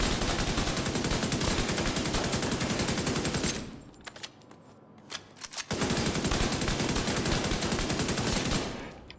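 Sustained automatic gunfire at the shooting range in the video game The Division 2: a dense, loud rattle of rapid shots, broken by a brief pause with a few isolated reports before the continuous burst resumes.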